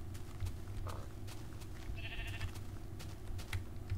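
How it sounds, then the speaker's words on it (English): A Minecraft sheep gives short bleats over a constant low background hum. "I'm gonna ride the sheep."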